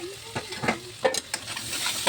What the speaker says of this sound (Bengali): ঢাকাটা সরিয়ে আবার নাড়াচাড়া দিয়ে দিলাম।